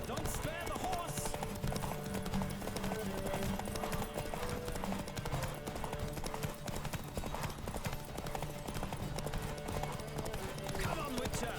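A horse gallops at race pace in The Witcher 3, steady clip-clop hoofbeats running throughout, close and loud, under game music and a rider's spoken voice.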